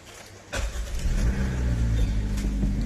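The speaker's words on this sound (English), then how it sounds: "And there the engine fires." A 2021 Maruti Suzuki Dzire VXi manual car fires up after a brief starter crank, then settles into a steady, close idle rumble.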